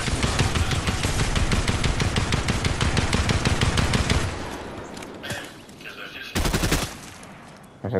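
Rapid machine-gun fire in a PlayStation video game rattles continuously for about four seconds, then stops. A quieter stretch follows before one more short, loud burst.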